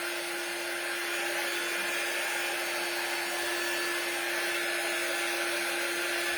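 A hair dryer blows steadily and loudly with no pause, drying paint into the nooks of a resin Santa plaque mold, its whine holding one constant pitch throughout.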